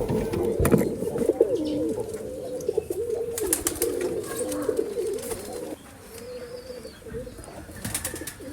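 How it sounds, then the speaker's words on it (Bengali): Pigeons in a coop on a small farm coo softly and repeatedly close by, their low throaty calls rolling almost continuously, with a few brief rustles and knocks between them. "আপনি আমাদের কবুতরগুলো দেখেন"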